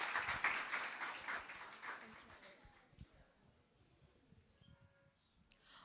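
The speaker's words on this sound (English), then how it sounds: "Give yourselves a round of applause." Students at Guys Hill High School clapping in a round of applause, loud at first, then thinning out and fading into scattered claps and room noise.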